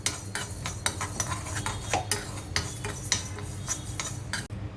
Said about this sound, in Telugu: 1 స్పూన్ ధనియాలు, 1/2 స్పూన్ జీలకర్ర వేసి డ్రై రోస్ట్ చేసుకోవాలి